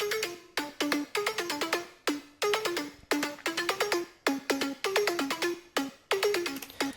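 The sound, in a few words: synth plucks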